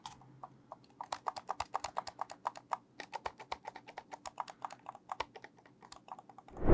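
Left and right buttons on an Everest SM-W76 wireless gaming mouse click rapidly and repeatedly, with crisp, close, dull-toned taps in quick irregular bursts against near silence.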